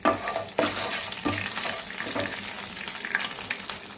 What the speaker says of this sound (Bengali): এই তেলেই ফোড়ন দিচ্ছি একটা শুকনো লঙ্কা আর কালো জিরে।